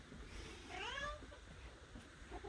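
A house cat gives one drawn-out, rising and falling meow in the morning, moderately close and clear, heard over a low background rumble with no talking.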